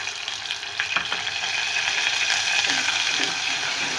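Ginger-garlic paste sizzling in hot oil in a pan with golden-browned garlic, a steady close hiss with a few stirring scrapes, no talk.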